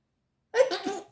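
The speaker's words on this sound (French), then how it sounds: "je vais éternuer." A single short, sharp sneeze bursts out after a moment of silence, close and fairly loud.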